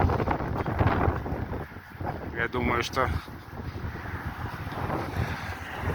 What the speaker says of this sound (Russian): Очень сильный ветер